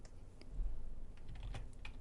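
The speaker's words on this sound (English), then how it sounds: "Now press the Enter key." Computer keyboard keys clatter in a short burst of typing, with one sharper press standing out near the end of the flurry, close and fairly quiet in an otherwise still room.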